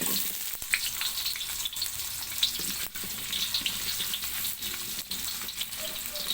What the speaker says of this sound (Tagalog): Prito lang natin